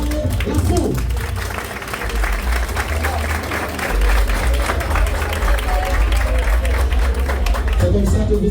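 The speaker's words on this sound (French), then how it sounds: "Levez-vous et applaudissez chaleureusement notre championne" An audience at a House of Challenge show stands and applauds its newly crowned champion, a dense, continuous wash of clapping and crowd noise, with a voice speaking over it.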